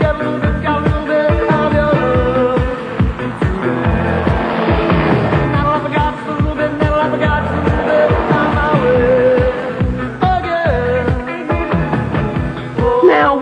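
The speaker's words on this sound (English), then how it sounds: "Looks and sounds a lot like an ultralight" A 1989 Wombat trike ultralight aircraft engine runs steadily and loudly throughout, a dense continuous drone with a rhythmic pulsing texture and no clear speech.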